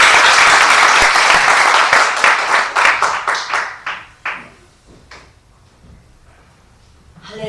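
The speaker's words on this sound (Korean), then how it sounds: "우리 하나님께 영광의 박수 드리겠습니다" Korean church congregation giving a round of applause, dense loud clapping that thins into scattered final claps and dies away, leaving near silence before a faint sound at the end.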